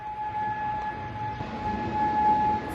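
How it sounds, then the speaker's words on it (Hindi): An air raid siren sounds in Kuwait during an Iranian attack, a steady, unbroken tone that carries from a distance over a low murmur of background noise. "आज कुवैत में ईरानी अटैक को लेकर सायरन बजते भी सुनाई दिए हैं।"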